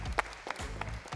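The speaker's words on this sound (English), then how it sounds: "Give him a hand." Audience at a basketball academy claps steadily for a player, a burst of hand claps from a nearby crowd lasting about a second.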